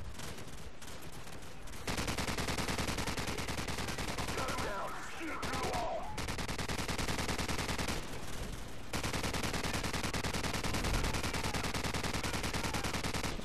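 Machine gun fire in the Call of Duty 4 video game, a dense stream of gunfire bursts running almost continuously at close range with a few short pauses, over game battle noise.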